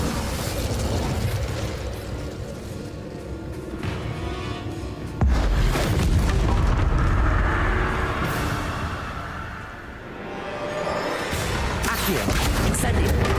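An Incendio fire spell cast in the Hogwarts Legacy video game, a loud whooshing burst of flame with rumbling crackle amid clanking combat effects, with a voice talking over the top.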